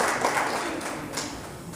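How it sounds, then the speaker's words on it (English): Audience clapping at a Prince Hall Abu Bekr Court Commandress Ball, a soft, diffuse patter of hands heard from a distance and fairly faint, holding steady throughout. "You can clap for her, it's okay."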